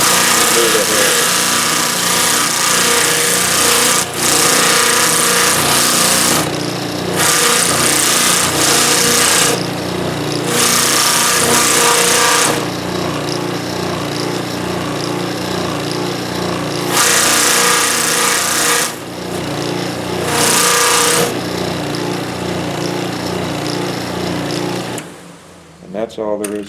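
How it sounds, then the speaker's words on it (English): A power sander smooths a carved wooden Native American figure, its steady buzzing drone running loud and nearly continuous with brief dips and pauses between passes, and someone talks over it. "You can see where the sander hit that."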